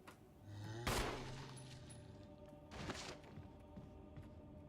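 Gunfire in the video game Resident Evil 1: two sharp shot bursts about two seconds apart, moderately loud over a low droning game background with no voices.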